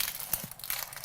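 Outer papery layers peeled off an onion by hand in a kitchen give a faint, dry crinkling and crackling, with a few soft tearing bursts close by.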